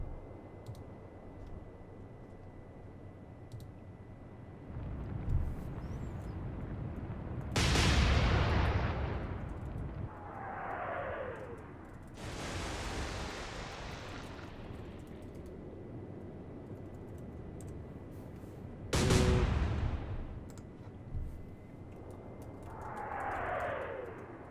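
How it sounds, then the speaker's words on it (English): The Bismarck's battleship guns fire at enemy ships in the Atlantic Fleet naval game. Two massive booming salvos land about ten seconds apart, each followed by descending whistles of shells in flight over a quiet, hissing background. "I'm shooting the lead ship with the Bismarck."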